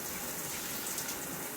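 An old shower head sprays water, producing a steady, dense hiss of spray with no pauses.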